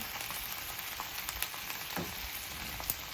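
Scallions stir-fried in a hot pan over high heat produce a continuous close sizzle, punctuated by a few brief clicks and scrapes from stirring.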